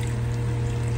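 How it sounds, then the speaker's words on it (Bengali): Water pours into a cooking pot of chicken and fried potatoes, a steady close splashing rush with a low humming undertone, continuous and without speech. "জল দিয়ে দিলাম।"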